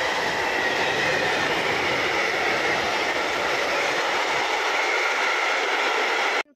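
A regional passenger train on the Gdynia–Bydgoszcz line passes through the station at Cieplewo, a loud, steady rolling roar with wheel squeal, sustained close by before cutting off abruptly.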